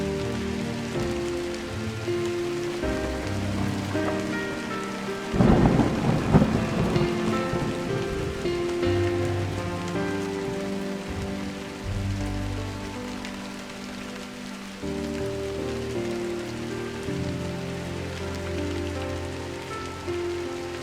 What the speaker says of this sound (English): I woke to a morning of light drizzle